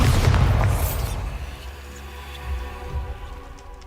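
A Bombarda blasting spell explodes in Hogwarts Legacy, a heavy booming blast up close that decays into a rumbling tail with faint debris and echoes.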